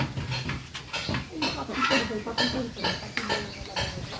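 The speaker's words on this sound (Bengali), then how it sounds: "সুজির হালুয়ার জন্য হাঁড়িটা এবার বসাই দিলাম" A large cooking pot is set on a village stove for semolina halwa, giving a run of metallic clanks and scrapes up close, with voices in the background.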